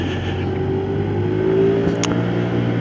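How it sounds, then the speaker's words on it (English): A big lorry rumbles past close by on a road, its deep mid-range engine drone steady and loud under the constant hum of a Lexmoto Echo motorcycle being ridden, with a brief rattle toward the end. "Big lorry coming round, go wide."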